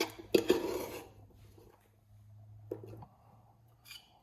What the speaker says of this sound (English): Let's portion up some of this lovely, sticky, spicy rice